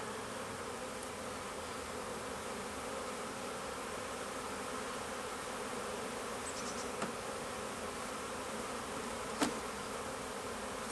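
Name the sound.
honey bees buzzing around an open hive during a split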